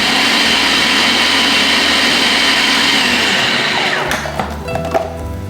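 A blender runs loud and steady, whirring through chickpeas and drained sweet corn for vegan veggie burgers, then the motor slows and cuts out near the end, leaving a few knocks and rattles.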